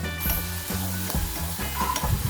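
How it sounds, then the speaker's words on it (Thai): Minced pork stir-fries in a hot pan with seasoning powder, sizzling loudly and steadily while a utensil scrapes and tosses the meat in repeated strokes, close up and without speech. "ตามด้วยหมูสับครับ เราจะลวนหมูสับให้มีรสมีชาติออกมาก่อนเลยนะครับ ให้มีความให้สุกก่อนเลย"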